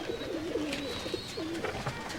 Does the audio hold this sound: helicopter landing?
no